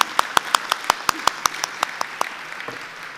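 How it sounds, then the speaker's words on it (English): Audience applause at an energy conference session, heard as a sparse run of a dozen or so sharp, evenly spaced claps that thin out and fade after about two and a half seconds. "I ask you to join my applause"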